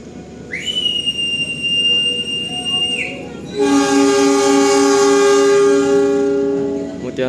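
The Mutiara Selatan, a first-generation stainless steel train, sounds a rising whistle, then a long, loud multi-tone horn blast over the rumble of departure.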